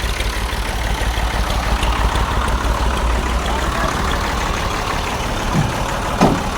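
A tractor engine runs steadily after a difficult start at a worksite beside an excavator, with a low continuous idling rumble held throughout and a brief louder rise near the end.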